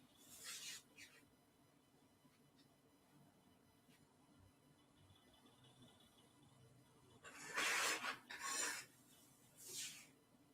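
A photo print is trimmed in a few short rasping cuts, clustered near the end after a long quiet stretch, close but soft.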